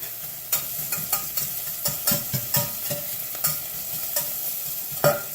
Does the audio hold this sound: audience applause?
no